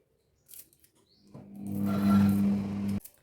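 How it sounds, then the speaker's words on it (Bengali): Green chillies being cut into small pieces for a cabbage omelette: a couple of faint snips, then one sustained close cutting stroke lasting about a second and a half before stopping abruptly. "কয়েকটা লঙ্কা যতটা পারবো ছোট করে আমি কেটে দিচ্ছি"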